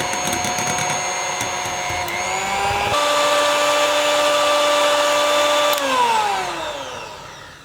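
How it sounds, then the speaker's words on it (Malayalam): An electric mixer whips cream with cocoa powder for a bread chocolate pastry, a close, steady motor whine that shifts pitch as speed changes, then winds down at the end, with no talk. "കൊക്കോ പൗഡറും കൂടി ചേർത്ത് വീ വീണ്ടും വിപ്പ് ചെയ്തെടുക്കാം"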